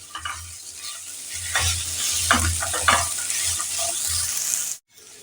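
Grated coconut frying with pumpkin in an oiled pan for a Bengali pumpkin chhakka, with a steady sizzle and repeated stirring scrapes close by. The sound cuts off abruptly near the end.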